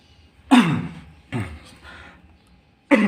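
Three loud, close coughs burst out in sequence, the first two about a second apart and the third after a short pause, each a sharp raspy hack from a hoarse man.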